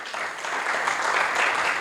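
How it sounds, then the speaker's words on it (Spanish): A church congregation at a Pentecost service applauds loudly, a brief, dense wash of clapping that holds steady from start to end without any voices. "¿Qué tal si ustedes se dan un fuerte aplauso?"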